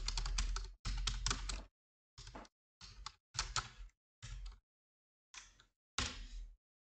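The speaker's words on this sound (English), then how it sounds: "Let me type the password." A password typed on a computer keyboard in short bursts of quick key clicks separated by brief silences, close and clear.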